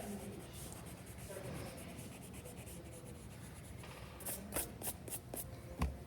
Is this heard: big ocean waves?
no